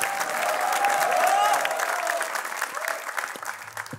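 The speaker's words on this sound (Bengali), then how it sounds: "তারপর আমরা জোরে একটা হাততালি চাই ফর বিপি সিজন 5।" Loud applause from an audience at a live talk-show taping for Bachelor Point season 5, a dense sustained clapping that swells early and slowly tapers off, with scattered cheers mixed in.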